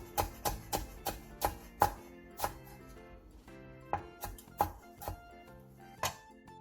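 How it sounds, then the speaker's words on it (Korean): A knife chops seeded Cheongyang chili peppers on a cutting board in a series of close, crisp, irregularly spaced thuds, several quick strikes, a brief pause, then a few more chops. "씨를 털어낸 청양고추는 쫑쫑 썰어주세요."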